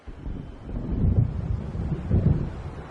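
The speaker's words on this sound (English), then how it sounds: "It seems there's a storm coming." An approaching storm in Alan Wake brings low, rolling thunder that swells twice in deep rumbling waves over a windy, rainy background, with no voices.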